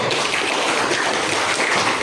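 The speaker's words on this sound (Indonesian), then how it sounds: "tepuk tangan dulu" A class bursts into dense, steady applause after a presentation, many hands clapping together at close range with no pause.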